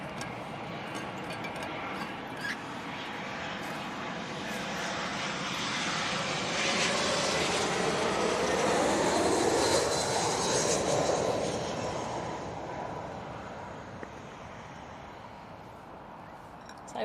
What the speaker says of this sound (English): you've got rain sounds, you've got planes,